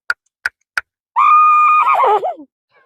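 A man imitates a horse neighing with his voice: three sharp tongue clicks like hoofbeats, then a loud, quavering whinny that wavers and falls away.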